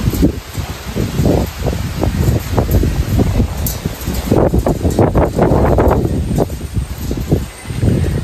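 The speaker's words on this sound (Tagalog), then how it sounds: "Tahimik ng panahon pero lakas ng hangin" Strong typhoon wind gusts roar and buffet against the microphone, with rustling leaves and flapping cloth churning steadily and loudly throughout, swelling in surges.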